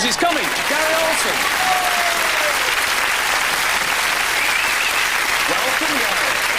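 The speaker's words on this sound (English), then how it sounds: "Come on, give him a round of applause." A studio audience at a Sooty show claps continuously and loudly to welcome Gary Olsen. The steady, full applause carries on throughout, with a host's voice faintly audible over it.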